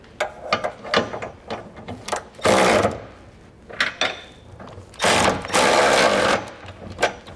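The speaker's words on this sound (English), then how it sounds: "now we'll take our 18 millimeter socket and we're gonna go back and snug them down" An 18 mm socket on a ratchet tightens trailer hitch bolts for a Curt receiver on a 2022 Buick Envision, giving bursts of quick clicking ratchet strokes separated by short pauses, up close and with no talk.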